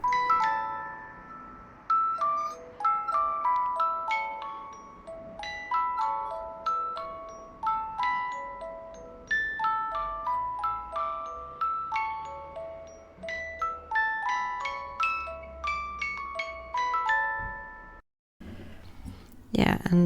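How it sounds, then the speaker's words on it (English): A small music box plays a bright plucked-comb tune of evenly spaced metallic notes, near and clear, running for most of the stretch before stopping abruptly, followed by a short burst of handling noise. "I will give you a quick sample of music box"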